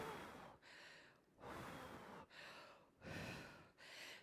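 Heavy, rhythmic breathing during a strength HIIT workout, with four or five loud, rasping breaths in steady succession, close to the mic and without talk.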